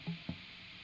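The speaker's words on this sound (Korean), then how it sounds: "툭툭 튀어나온 부분은 아마 제가 이제 기타를 이렇게 건드리는 소리" Two faint, close thuds of hands brushing an electric guitar rise briefly over the steady noise floor of an unplayed stretch of recording.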